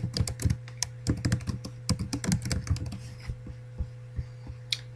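Rapid typing on a computer keyboard as a page title is entered, a dense burst of close keystrokes that thins to a few scattered taps, over a steady low electrical hum.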